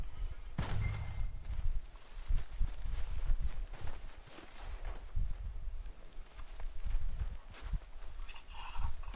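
A horse in Red Dead Redemption 2 walks with steady clip-clopping hooves, close and rhythmic, with a brief snort or whinny near the start.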